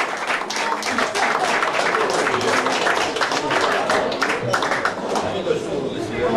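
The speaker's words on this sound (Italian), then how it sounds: "Grosso applauso." Audience applause at a blues concert night as a performer is welcomed to the stage, a dense, steady wash of clapping with crowd noise holding at full level throughout.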